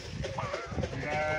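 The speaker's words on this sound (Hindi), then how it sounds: "ये जी भेड़ है," Sheep bleat on a desi dairy farm in Pakistan, several wavering calls close by, overlapping with a voice talking and ambient farm noise.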